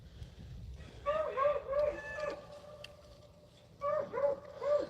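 A beagle hound pack chasing a rabbit, giving repeated high, wavering baying cries in bursts, a pause in the middle, then another round of excited howls close by.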